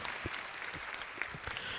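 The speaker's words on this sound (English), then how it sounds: "And a round of applause to him, please." An audience at a Janasena political gathering in Telangana claps steadily throughout, a dense crackle of applause with no pauses.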